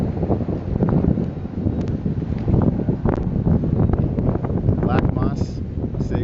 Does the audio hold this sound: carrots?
no